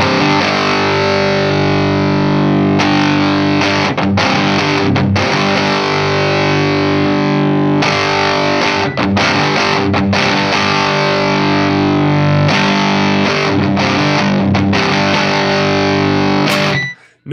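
Electric guitar driven through a Silktone Overdrive+ pedal with the bass cut switch engaged, playing heavy, loud, continuous distorted chords and riffs with brief gaps before cutting off at the end.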